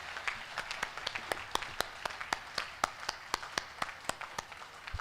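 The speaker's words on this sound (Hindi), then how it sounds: "तो मेरे लिए भी आप तालियां बजा सकते हैं।" Applause from an audience at a kavi sammelan, a poetry gathering for a guru's birthday celebration: sparse, distinct claps set in a quick, irregular rhythm over a soft background, moderately distant.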